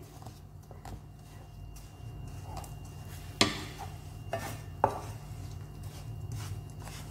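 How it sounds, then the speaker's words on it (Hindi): Chopped jaggery being mashed into melted ghee in a pan, soft muffled pressing under low background hum, broken by three sharp knocks of the utensil against the pan. "अब गुड़ को अच्छे से मैश कर लेंगे इसमें"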